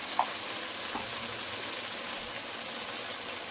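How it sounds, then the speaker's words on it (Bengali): Turmeric and chili powder fry in hot oil for an egg and masoor dal kofta curry, giving a steady close sizzle with a couple of faint utensil clinks near the start. "গুঁড়ো মশলা দিয়ে একটু ভেজে নেব"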